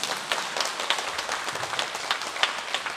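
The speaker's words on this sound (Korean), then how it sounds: "아이 박수 한번 쳐요." A church audience claps during a sermon on Revelation, producing a steady patter of hand claps with scattered sharper hits, moderately loud and without talk.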